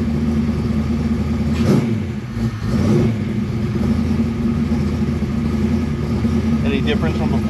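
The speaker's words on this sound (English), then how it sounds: "Give it a little rev." A Foxbody Mustang running Holley Terminator X fuel injection and MSD ignition, started cold, rumbles at a loud steady idle, swells briefly in a short throttle rev, then settles back to an even drone.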